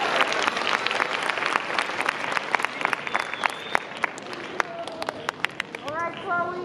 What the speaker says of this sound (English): So give a round of applause to the next choir that's going up.